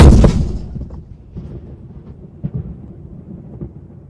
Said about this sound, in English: Battery! Number 1 gun, fire!